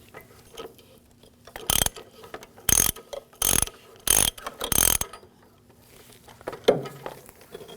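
Ratchet wrench loosening the oxygen sensor on a 2006-2009 Audi S4 4.2L V8, five loud close bursts of rapid clicking separated by pauses, then quieter tool handling.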